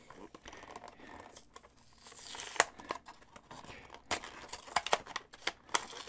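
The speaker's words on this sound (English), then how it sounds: "let's go ahead and pop this thing out of the packaging here" A miniature Bone Devil figure is popped out of its plastic packaging, giving quiet crinkling and crackling with scattered sharp snaps and taps, faint and close, with no voice over it.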